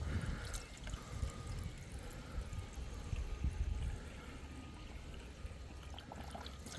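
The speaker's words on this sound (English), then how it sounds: "a little bit more on the radiator" Water is poured into a car radiator, a soft continuous pour and trickle of liquid close by at low level, with no speech.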